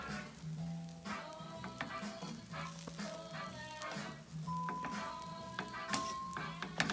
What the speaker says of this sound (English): try to take the rice from the bottom and flip it over